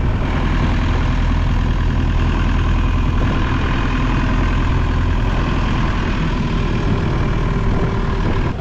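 A boat engine drones steadily and loudly throughout during a solo boat ride around Krabi and Phi Phi Island, Thailand, a continuous low rumble with no pauses and no voices.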